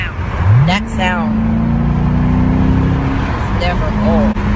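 A supercharged LS3 V8 in a 2009 Chevrolet Corvette C6 accelerates hard, its engine note climbing steadily from a low rumble and holding a loud, sustained roar, with a second rising pull near the end amid wind noise.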